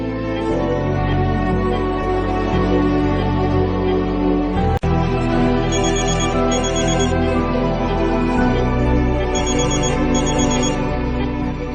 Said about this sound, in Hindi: मोंटी का फोन।